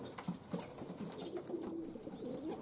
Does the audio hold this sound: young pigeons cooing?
yes